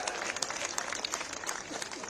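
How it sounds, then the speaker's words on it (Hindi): Audience at a JP Nadda political rally in India applauding, a dense, steady wash of clapping with crowd noise that holds at even loudness for about two seconds. "एक बार हमारे राष्ट्रीय अध्यक्ष जी के नाम पर जोरदार ताली बजा करके आप सभी अभिनंदन करें"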